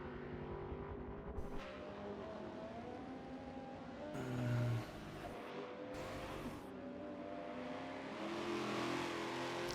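A Mercedes C300 and an Aston Martin race along a straight at Virginia International Raceway in a sport touring video game, with steady engine drone, rising and shifting revs and brief bursts of louder passing noise.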